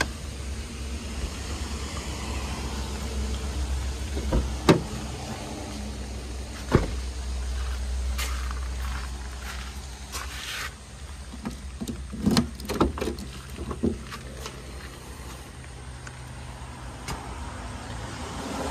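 The boot of a Hyundai Eon 1.0 car is opened, with a few scattered clicks and thumps of the latch and lid against a low, steady background hum.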